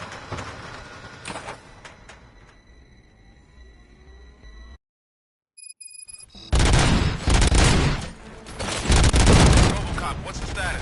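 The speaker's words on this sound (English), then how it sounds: "Gunshots? What's going on?" Gunfire in a Robocop video game, with bursts of dense, loud shots and booms filling the second half after a brief silent gap, following quieter game sounds and speech.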